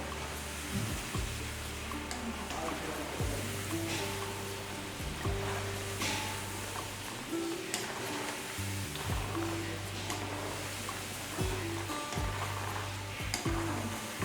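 Salt seedai dough balls fry in hot oil, making a steady, dense sizzle with continuous bubbling hiss throughout, with low intermittent hum tones beneath.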